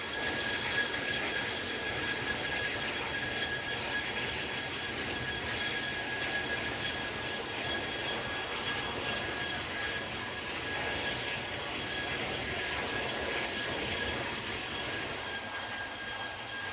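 A burning propane jet fire roars steadily during a cable-and-pipe penetration fire test, the jet moving at about 360 km/h; the sound is a continuous, loud, broadband rush that holds level throughout without letting up.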